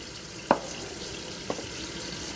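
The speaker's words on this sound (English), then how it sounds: "break these 4 eggs and put them in this" Eggs are cracked against a pouring cup while making cheesecake, giving two sharp, crisp taps about a second apart over a quiet kitchen background.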